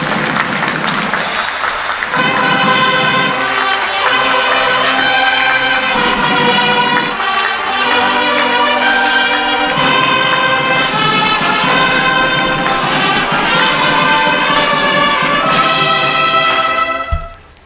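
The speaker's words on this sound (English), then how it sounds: "Let us give him a round of applause." A large audience at a National Defence University graduation ceremony claps in sustained, dense applause that holds steady for well over fifteen seconds before cutting off abruptly.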